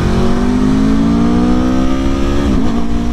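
Aprilia Tuono motorcycle exhaust note heard while riding, a loud, steady engine drone with a slowly rising pitch and a brief dip near the end, close to the rider with no talking.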